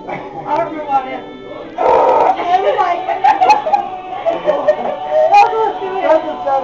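Person imitating a toilet noise with their voice, a short burst of mouth sound among a bit of casual chatter, heard up close in a domestic setting.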